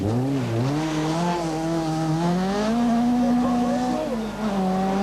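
Opel Group B rally car at the 1985 Hellendoorn rally cornering on a slippery stage, its loud, close engine note climbing and dipping through gear changes as it powers out of the bend, with a brief tyre squeal.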